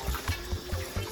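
Water poured and sloshed over pieces of goat meat being washed in a bowl, short splashing gurgles in a quick uneven rhythm, close and moderately loud.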